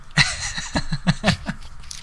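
Crunchy cornflakes being chewed up close, a run of sharp, irregular crunches spaced through two seconds, each bite distinct and fairly loud with no talking over it.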